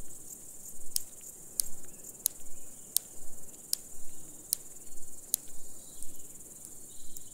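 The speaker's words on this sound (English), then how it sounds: "Large marsh grasshoppers are easily recognisable by their song, which is produced by a rhythmic snapping of their hind legs." A large marsh grasshopper on a moor produces its song by snapping its hind legs, giving a series of sharp, evenly spaced ticks about once every second, close and clear over a steady insect hiss.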